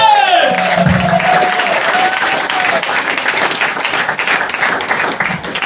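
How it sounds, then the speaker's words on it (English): Audience applause and some cheering for a comedian at a comedy show in the Dudok Café, The Hague. Loud, dense clapping carries the whole stretch, and a host's voice is heard at the start. "So we need a round of applause. Come on, give it up"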